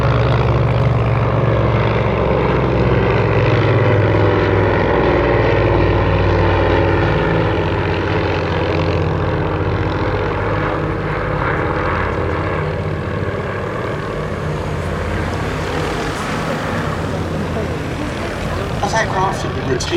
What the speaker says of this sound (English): We had Willie Hackett in the Avro 504K, and now back on the ground